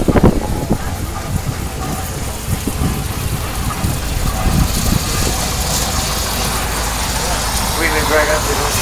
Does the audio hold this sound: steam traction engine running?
yes